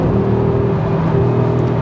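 New Audi RS3 hot hatch engine humming steadily with a smooth, even drone and slight pitch shifts as the DCT gearbox changes gears, heard from inside the car.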